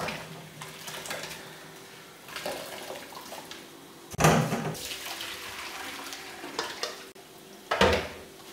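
Water poured into a pot of washed bitter leaf (ndolè) for a traditional Bamiléké sauce, heard as splashing and stirring bursts, with louder pours near the middle and end.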